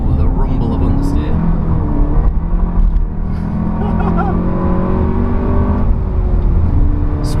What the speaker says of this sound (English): Ooh, the rumble of understeer.